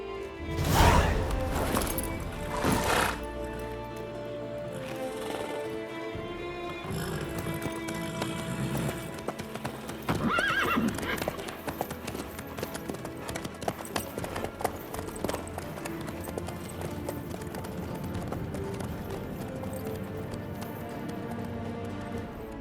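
Horse hooves clip-clop steadily in The Witcher 3: Wild Hunt, a continuous rhythmic trot mixed with game music and ambient sound, a bit louder near the start and around the middle.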